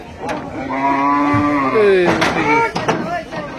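A large Qurbani cow at Hazratpur cattle market in Bangladesh lets out a long, loud moo close by while being loaded onto a truck, with short bursts of crowd noise and voices around it.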